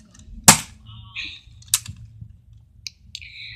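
A cartoon gunshot effect gives a sharp, punchy crack, followed by a second snappy shot a moment later. Brief squeaky electronic blips fill the gaps in an otherwise quiet background.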